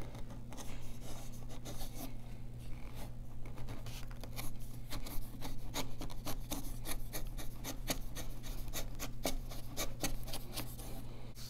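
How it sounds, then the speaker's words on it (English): A sharp chisel, held upside down, skives and tapers leather for a belt, giving a steady scraping rasp that continues through the whole stretch with repeated short strokes, close by and without talk. "we're going to use the chisel upside down, and you'll kind of get a feel for what angle works"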